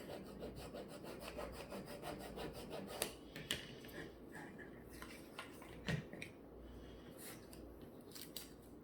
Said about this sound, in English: you gotta scrape it as hard as you can once you get it on the wood